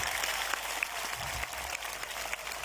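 An audience at a Nazareth Baptist (amaNazaretha) gathering applauds in a dense, even wash of clapping that holds steady throughout, with no speech on top.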